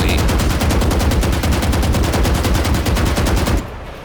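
Rapid automatic gunfire from the shooter game Valorant, a dense continuous burst of loud, evenly spaced shots that stops abruptly near the end, leaving a quieter tail.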